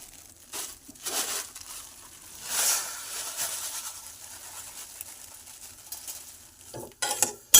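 Fish chops fry in a pan, a soft sizzle with scraping and stirring scuffs, a few louder clatters near the end.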